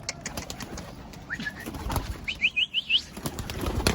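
Pigeons take off near a pigeon tower during pigeon catching, with a quick run of close wing flaps and short whistling tones over quiet outdoor background, and no speech.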